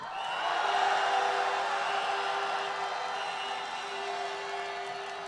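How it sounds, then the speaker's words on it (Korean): Large political rally crowd against the Yoon Suk-yeol government roaring and cheering from a distance, a steady, sustained wash of voices without distinct claps or breaks. "엄청난 그 환호"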